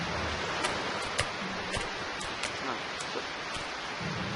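Steady rain on a boat in the Octodad video game, a continuous broadband hiss with periodic sharp drip or tick accents, moderately quiet and with no talking.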